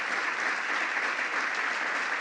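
A large audience applauds a President Biden speech at an event on reauthorizing the Violence Against Women Act, steady dense clapping that holds loud and even throughout.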